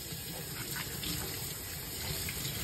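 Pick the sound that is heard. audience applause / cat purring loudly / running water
running water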